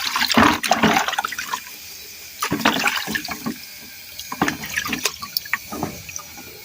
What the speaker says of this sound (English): I wash my hand now. Wash off my hand.